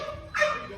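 A dog lets out a single sharp, short bark or yip, close and fairly loud, in an indoor setting.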